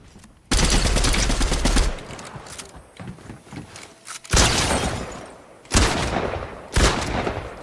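Loud bursts of rapid video game gunfire erupt repeatedly, separated by quieter stretches with scattered shots and echoing booms.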